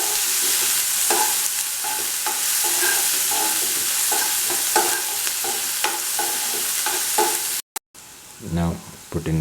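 Onions with salt sizzle steadily in a hot pan for Maggi masala noodles, loud and continuous, with a spoon scraping and stirring in regular strokes before a brief cutoff and a clattering stir at the end.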